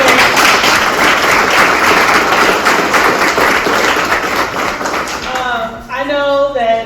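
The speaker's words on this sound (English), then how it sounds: "Can we give a round of applause to our alumni?" Audience applause for alumni at a university homecoming event, loud dense clapping filling the room for several seconds before fading as a voice begins speaking near the end.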